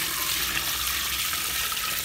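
Steady stream of tap water pouring into a cooking pot while preparing sheep's head (kelle), a continuous rushing splash heard close and loud throughout with no talking.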